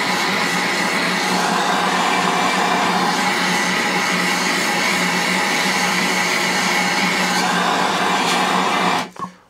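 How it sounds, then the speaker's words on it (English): A MAP gas torch heats the friction disc on a Hayter lawn mower, producing a continuous, loud, close roaring hiss that holds steady for several seconds before tapering off at the end. "literally just want to heat up the friction disc"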